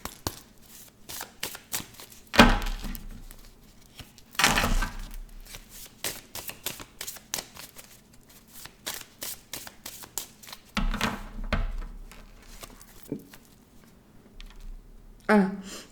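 Thirteen cartomancy cards are shuffled and handled in a run of quick soft riffling flicks and slaps, close and fairly quiet, with a few louder bursts scattered through.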